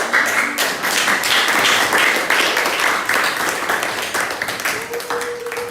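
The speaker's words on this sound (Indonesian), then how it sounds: "Beri tepuk tangan untuk kelompok." A classroom applauds a student group, a loose, crowded patter of clapping that stays fairly loud and close, thinning slightly near the end, with voices faintly mixed in.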